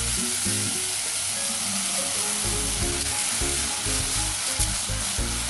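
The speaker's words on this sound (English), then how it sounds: "So I'm simply going to stir this around until I feel everything has come together." Pumpkin and cabbage sweat in a pot of minestrone vegetables while being stirred. The sizzle is steady and close, with soft stirring thumps underneath and no talking.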